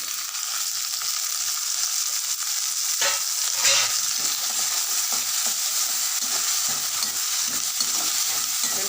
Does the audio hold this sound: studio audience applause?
no